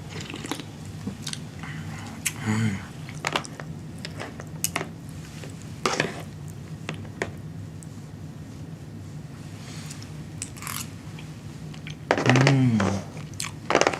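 Someone eating a meal with pineapple and rice, with crunchy bites and chewing close to the mic, scattered clinks of cutlery on dishes, and a couple of louder bursts of movement between quieter stretches.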